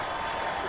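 A football stadium crowd at a Marshall Thundering Herd game against Appalachian State roars in a dense, continuous wash of cheering, loud and distant-sounding, brief and unbroken.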